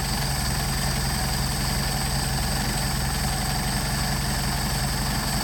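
A Mercedes 190SL engine with Solex carburetors idles steadily, a constant close-up mechanical hum with an even low throb and no voices.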